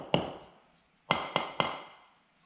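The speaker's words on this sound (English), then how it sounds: "Give it a light smack with a hammer." A hammer lightly smacks a block of cured 16 lb expanding foam, giving four hard, close knocks: one single blow, a pause, then three quick strikes in a row, each with a short ringing decay.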